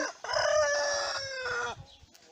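A Sussex chicken crows once, loud and close, a drawn-out call lasting over a second before cutting off into quiet.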